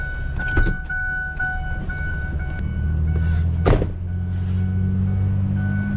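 A Ford 6.4 Powerstroke diesel truck engine idles with a steady low rumble throughout, a couple of brief louder bursts and clunks breaking in near the start and again in the middle.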